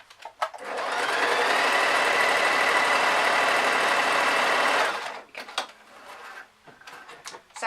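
A sewing machine stitches a seam on a vest top in one steady, fast whirring run of about four seconds, followed by quieter handling clicks and rustles.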